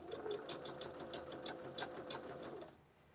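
Sewing machine stitching fabric, backstitching at a seam: a fast, even mechanical chatter of rapid needle strokes close by, running steadily for under three seconds before stopping.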